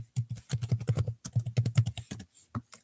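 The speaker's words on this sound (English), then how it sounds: "so don't mind me typing" Rapid typing on a computer keyboard, close and clear, a quick irregular run of clacking keystrokes with short pauses, no talking.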